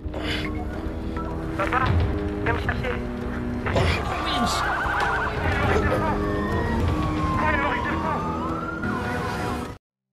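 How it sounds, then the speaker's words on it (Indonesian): A police siren wails over busy background sound and voices, its rising and falling tones sweeping through the middle of the scene. "suara sirine polisi yang mendekat memaksa pria misterius tersebut melarikan diri"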